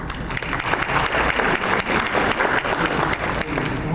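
Dense audience applause fills a conference hall at a space development gathering, a steady wash of many hands clapping close and loud from start to finish.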